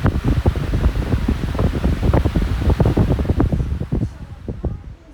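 A loud electric fan whooshes and flutters steadily, the airflow noise gradually easing toward the end as it winds down.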